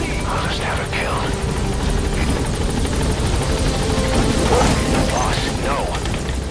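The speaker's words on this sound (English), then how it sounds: "I'll send the extraction chopper." In Metal Gear Solid V, an extraction helicopter arrives with a loud, continuous rotor and engine roar that fills the whole stretch, thick broadband noise with faint background game sounds layered over it.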